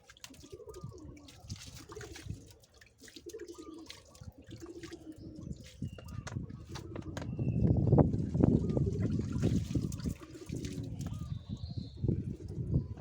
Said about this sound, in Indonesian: coba sekarang kita siram-siram air ya.